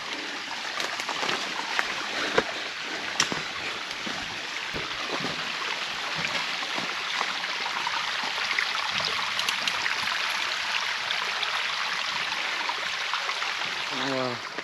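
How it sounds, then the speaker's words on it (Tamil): Stream water flowing steadily as it is crossed on a hill trek in the PalaMalai hills near Coimbatore, a continuous broadband rush with small splashes and trickles throughout, fairly close. "பாருங்க, ஓடை வழியில் ஓடை கிராஸ் ஆகுது பாருங்க"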